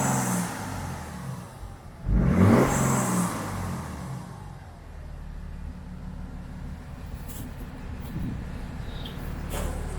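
A BMW 430d F33 with a three-litre six-cylinder diesel idles nearby during a carbon cleaning, then revs sharply once before settling back to a steady idle.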